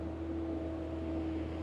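Himiko sightseeing boat passing on the water in Tokyo, a steady low engine drone with a tonal hum, continuous and moderately loud throughout with light wind noise.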